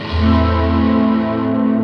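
Casio MG-510 MIDI guitar played through a distortion pedal, a loud sustained distorted chord with rich buzzing harmonics that slowly fades, played alone.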